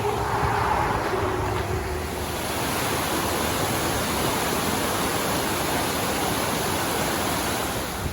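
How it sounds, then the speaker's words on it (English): A waterfall seen on a wilderness hike roars with a steady, loud, close broadband rush of falling water that stays constant throughout, with no talking. "Look at this waterfall."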